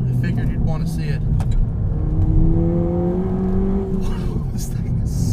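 A Ford Fiesta ST with a 100-octane pro tune accelerates along a road, engine note climbing steadily under loud in-cabin rumble, with a voice talking over it and some clicks.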